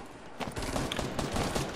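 Rapid SMG gunfire in a Fortnite Battle Royale match, a loud dense burst of shots running almost the whole way through with no talk.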